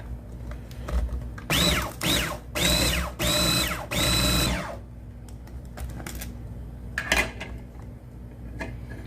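A food processor working ingredients for a steak crust: four loud, close motor bursts with rising and falling whine, pulsed on and off, then quiet rattling as it stops.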